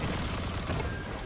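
Dense gunfire in a video game, a continuous loud barrage of overlapping shots with no break.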